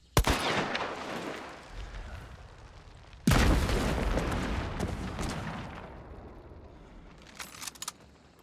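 Two heavy video game chaos bomb blasts in Hunt, mimicking gunshots with sharp onsets, each trailing into a long rumbling decay, then faint crackling pops near the end.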